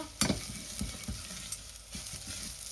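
Garlic fries in a pan with a steady close sizzle, broken by a few scrapes and knocks of stirring; no one speaks.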